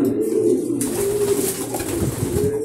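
Racing pigeons cooing in a loft: several soft, low, rolling coos close by, repeating steadily through the short stretch, with no speech.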